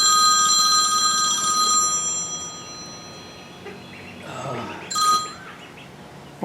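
A telephone rings in a workshop during small-engine repair, several electronic ring bursts in the first two seconds and again near the five-second mark, fairly clear over quiet room tone.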